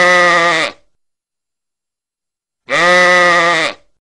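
Two loud, close sheep bleats at a rodeo, each about half a second to a second long and separated by a two-second silence, heard alone.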